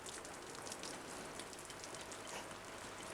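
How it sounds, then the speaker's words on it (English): Light rain falling outdoors in the hills, an even, faint hiss of drops with no break or voices over it. "Didn't know it was going to rain."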